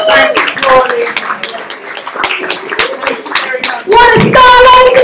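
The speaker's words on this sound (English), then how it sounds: "please give yourselves a wonderful cheer and round of applause" Comedy night audience at an open mic in Primrose Hill cheering and clapping, a dense continuous round of applause with whoops, swelling louder near the end while a voice speaks over it.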